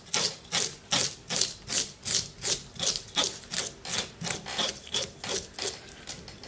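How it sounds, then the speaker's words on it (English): Fish scaler scraping the scales off a seabass from tail to head: about twenty rhythmic rasping strokes in a steady back-and-forth beat, close and crisp, with no talk. "So this is using a scaler."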